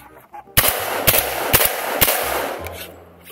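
Kirici AXL47 shotgun firing Winchester 2¾ inch low recoil slugs, four loud close booming shots spaced about half a second apart, each followed by a ringing echo that fades.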